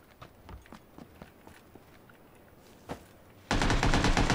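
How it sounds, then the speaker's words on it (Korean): Footsteps thud at a steady walking rhythm in a first-person shooter game featuring an M-16 rifle, soft and close with a sharper knock near the end, before a sudden loud burst of noise cuts in. "발소리"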